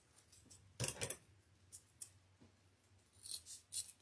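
Scissors snipping deco mesh for a St Patrick's Day wreath, a few crisp close cuts including a quick double snip, then softer rustles and snips in a quiet room without talking.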